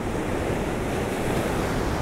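Ocean surf rushes steadily against a rocky shore, a dense, continuous wash of breaking waves mixed with wind noise on the microphone.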